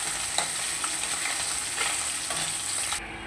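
Hot oil sizzles steadily under small puti fish as their second side fries, a dense close crackle that runs without a break and cuts off abruptly near the end.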